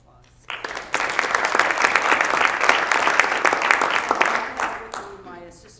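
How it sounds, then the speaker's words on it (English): Audience at a La Quinta city council meeting breaks into applause: a few early claps, then a full burst of sustained crowd clapping that holds steady before tapering off, with a voice starting up at the end. "So she deserves a big hand of applause."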